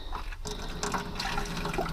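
Steady rush of water flowing from a faucet inside a Roadtrek camper van, continuous and fairly close, with faint clattering underneath.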